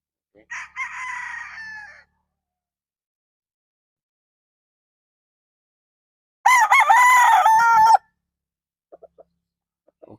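A nine-month-old Sweater gamecock stag, Boston Roundhead line, crows loudly and close twice, a short crow at the start and a longer one later, with a few faint clucks trailing off near the end.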